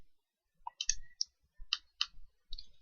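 A computer mouse clicks several times at a desk while someone enters a SUM function in an Excel spreadsheet, giving about six quiet, crisp, separate clicks in an irregular rhythm with no talk.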